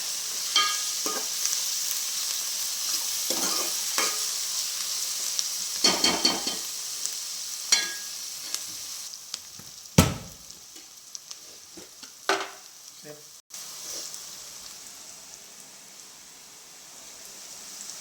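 Green chillies frying in a pan for country chicken, a soft steady sizzle broken by scattered scrapes and clinks of stirring, with one louder knock near the middle and no talk.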